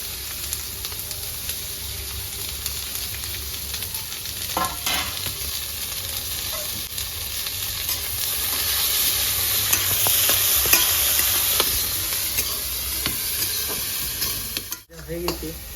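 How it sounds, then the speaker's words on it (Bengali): Chopped onion frying in very hot oil in a wok over a village clay stove, with a strong sizzle and stirring clatter, swelling mid-clip and then briefly cut off near the end. "কড়াইয়ের তেলটা খুব গরম আছে, তার সঙ্গে দিয়ে দেবো কেটে রাখা পেঁয়াজ।"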